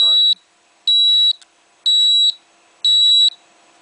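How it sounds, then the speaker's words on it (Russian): A sensor fault warning on a homemade stepper-motor-driven valve, four loud, evenly spaced high-pitched electronic beeps, each about half a second long, with brief silence between them; a voice is heard briefly at the start. "При исправном датчике такого сигнала нет."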